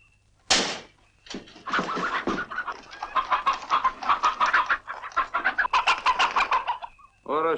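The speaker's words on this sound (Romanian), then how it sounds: "Cioban la curci și la găini orășene." Chickens clucking in a rapid, busy stream of short calls, close and loud, with a sharp squawk at the start and no talk over them.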